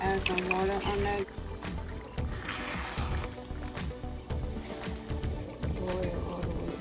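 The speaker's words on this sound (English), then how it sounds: "Add some water on that." Water poured over peanut butter crab in a cooking pot, a steady splashing trickle that runs throughout, with a brief louder pour near the start.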